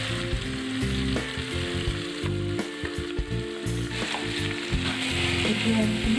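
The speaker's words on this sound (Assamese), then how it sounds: "এতিয়া মই ইয়াত জিৰা দিছোঁ। ধনিয়া আৰু এয়া হৈছে কাশ্মীৰী মিৰ্চ।" Cumin, coriander and Kashmiri chilli crackle loudly in hot oil for a home-cooked chicken and colocasia curry, a dense continuous sizzle with stirring scrapes throughout.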